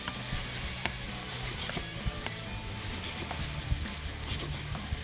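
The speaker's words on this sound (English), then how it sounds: "In this pan, we're gonna add some olive oil. We're gonna sweat our onions." Onions sweating in olive oil in a pan on an induction cooktop, a soft steady sizzle with faint crackles throughout, close and fairly quiet.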